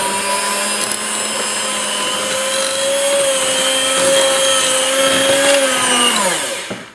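An electric mixer beats butter and brown sugar with a loud, steady motor whine and a constant grinding whir, holding pitch for several seconds before winding down at the end.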